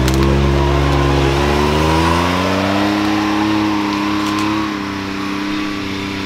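A brand new Can-Am Maverick X3 side-by-side, 200 horsepower, accelerates hard, its engine note rising and shifting through gears, loud and close with a throaty drone that eases slightly near the end.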